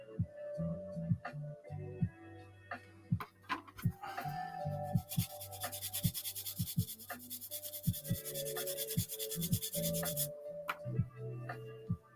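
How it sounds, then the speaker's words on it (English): Light sanding across the top of a 1/32 scale plastic SB2C-4 Helldiver model aircraft, a soft close-up rubbing and scratching that comes in short strokes and then in a longer steady burst. "I'll give it a light sand over across the top here to get rid of the any excess sprues or anything."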